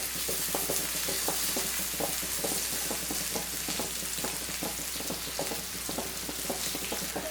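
Fish and brinjal frying in a pan, a steady close hiss of oil with crackling pops and occasional stirring clicks throughout.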